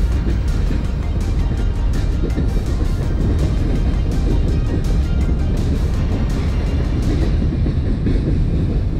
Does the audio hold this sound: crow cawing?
no